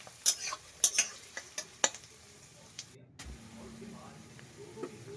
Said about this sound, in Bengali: সবার প্রথমে সর্ষের তেলের মধ্যে পেঁয়াজ দিয়ে দেওয়া হলো।